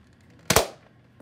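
A Nerf blaster fires once in a sharp, loud pop with a quick second snap right behind it, then fades fast into near silence during a point-scoring battle.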